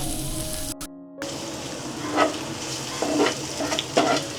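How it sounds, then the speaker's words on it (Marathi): Tomatoes frying in a pan as the base for a prawn masala, a soft steady sizzle with a brief dropout and scattered stirring scrapes near the end. "मस्तपैकी फ्राय झालेला आहे टॅमॅटो"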